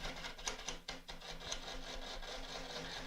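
Steady scraping hiss of a lathe gouge slicing through spinning elm burr wood, with bright rasping bursts and faint catches, close and continuous for about three seconds.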